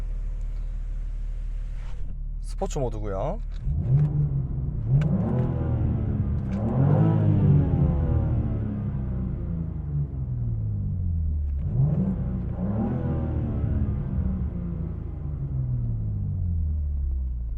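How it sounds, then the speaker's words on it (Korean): A 3.0-litre turbo BMW M2 in sport mode, heard from the cabin with windows up: several rising and falling exhaust revs boom and fade over a constant low drone, with a brief spoken phrase near the start. "그 실내에서 배기음 한번 들어볼게요 창문 올렸을 때 배기음 느낌입니다"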